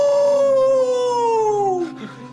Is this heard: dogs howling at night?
yes